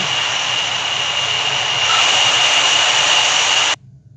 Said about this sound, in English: this is the takeoff tutorial of F100